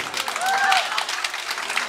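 Applause from an audience at a kindergarten March 8 celebration, thanking the teachers: a dense, steady wash of many hands clapping, fairly loud and continuous, with a brief whistle-like tone and some voices mixed in.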